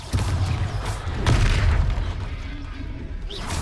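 A Confringo fire spell bursts in a Hogwarts video game battle, a loud booming blast with a rumbling low tail that fades over a few seconds.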